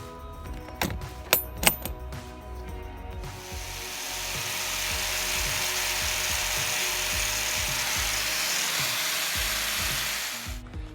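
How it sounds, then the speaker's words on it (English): An angle grinder strips heavy rust from a 100 year old lock, starting with a few sharp clicks and knocks, then spinning up into a steady, loud whirring grind that holds until it winds down at the end. "So the angle grinder worked well to get the rust on some of those more heavily affected areas"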